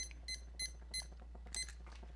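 A kitchen timer beeps as it is set: four short, bright beeps in a quick even rhythm, then a fainter chirp, close by over a low hum.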